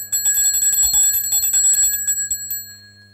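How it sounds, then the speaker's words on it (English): A hand bell rung briskly during a Valentine's Day holy mass, a loud bright rapid jingle lasting a few seconds before fading out, with no talk. "here I have a bell."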